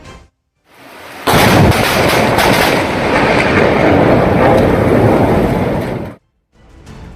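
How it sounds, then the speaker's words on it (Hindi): A lightning strike with a loud thunderclap during rain, recorded on a mobile phone: a sudden loud, sustained roaring crash lasting about five seconds, starting abruptly after brief quiet and cutting off sharply. "वहां धमाकेदार आवाज के साथ अचानक बिजली गिरी"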